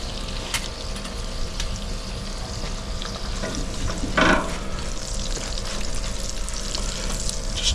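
Australian Wagyu ribeye steak sizzles steadily in butter on a high-temperature grill, a continuous close frying hiss with a brief louder burst of spitting midway and no talk.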